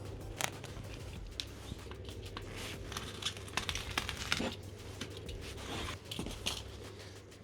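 Backing paper peeling off a strip of adhesive insulation mat, 18.5 cm wide, while insulating a camper roof built from a bus: close, continuous crinkling and tearing rustles over a steady low hum, no talk.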